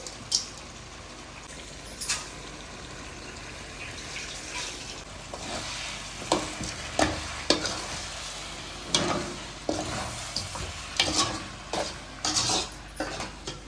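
Chicken leg pieces being stirred in a pan with ginger, garlic, onion, tomato and rock salt, a spoon scraping and knocking in irregular bursts over a steady low sizzle, close and moderately loud, no voices.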